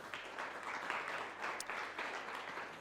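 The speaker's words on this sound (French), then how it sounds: "sous vos applaudissements nombreux." Audience applause at an ecology round-table event welcoming a guest to the stage, a steady wash of clapping with slight swells, moderately distant and continuous throughout.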